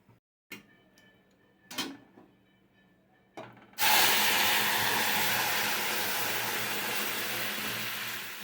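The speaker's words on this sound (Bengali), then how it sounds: "ডালটাকে ফোড়ন দিয়ে দেবো এবার।" Dried chilies and mustard seeds tempered in hot oil are added to dal: a few light clicks and taps, then a sudden loud sizzle that hisses on steadily and only slowly fades.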